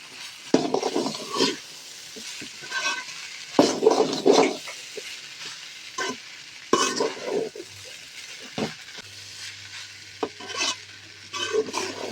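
Beef rice frying in a pan on a high flame, heard as repeated scraping stirs with sizzling and clinks of utensil on metal in short uneven bursts, close and fairly quiet, with no talking.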